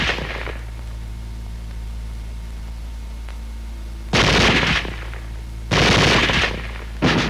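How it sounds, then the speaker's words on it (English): Bursts of automatic machine-gun fire from WWII-era small arms: three loud sustained volleys after a long quiet stretch, each a rapid continuous string of shots, the last cut short. "Weapons giving automatic fire will fire continuously as long as pressure is applied to the trigger or until the ammunition is exhausted."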